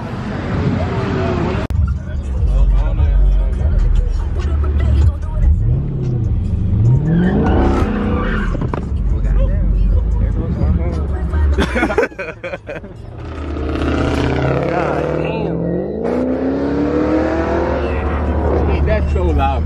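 A car engine revs hard nearby at a street racing meet, loud rising and falling engine howls and throttle blips over a steady rumble, with people talking and shouting throughout.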